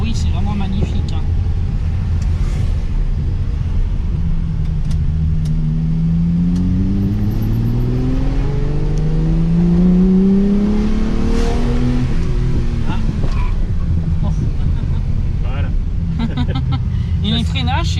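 A Ferrari 365 GT 2+2 V12 revs loudly for about eighteen seconds, its pitch climbing in long sweeps to a peak near the middle before falling back, with voices talking over the engine's steady roar.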